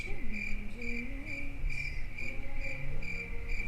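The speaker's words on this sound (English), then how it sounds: "Crickets." Crickets chirp in steady, evenly spaced pulses that run the whole length. The sound is quiet and continuous, with a faint low background hum and no speech.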